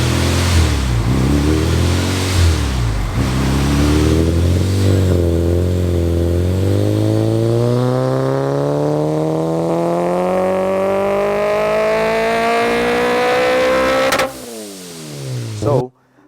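A supercharged Honda Civic Si FA5 with a centrifugal supercharger revs loudly and climbs steadily toward an 8,000 rpm redline with a rising whine, then drops off abruptly, and a voice talks faintly underneath.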